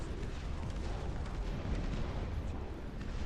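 Artillery fires in the real-time strategy game Dust Front, producing a continuous low rumble of distant booms and bursts at a fairly quiet level, with no clear gaps between shots.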